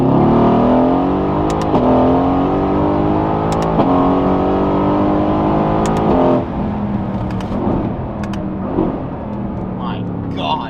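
A Mercedes-AMG GT S with a stage 1 Eurocharge tune accelerates hard, its loud engine note climbing through several quick upshifts close by, then easing off into a lower drone.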